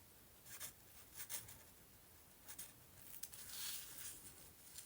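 A pen scribbles across dry painted botanical stems, leaving quiet, close scratchy strokes in several short bursts, with a longer rubbing stretch near the end.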